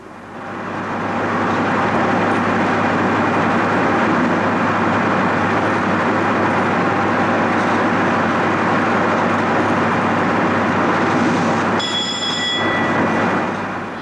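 A train rumbles past on the six-track Midland Main Line near Mill Hill with freight, express and local lines, a loud sustained roar building in then easing, with a brief high tonal squeal near the end.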